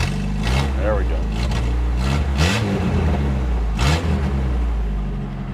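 A Pontiac Fiero engine with an exhaust leak idles roughly after starting, a loud low rumble with uneven pulses, while people talk nearby over it.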